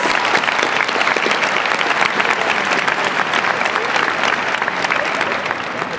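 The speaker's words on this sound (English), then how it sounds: "Please join me in a round of applause" Sustained applause from a large crowd at a graduation ceremony, dense steady clapping filling the room at an even loudness throughout.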